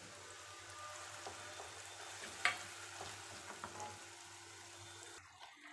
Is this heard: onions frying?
yes